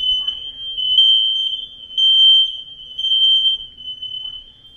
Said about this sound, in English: What were you and sir doing in the house by yourselves that got things so hot the fire alarm went off?